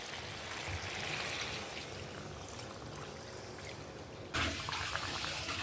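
Water is poured into a pot of simmering meat (chicken) curry, a soft continuous splashing trickle, quiet and close, with a brief louder splash near the end.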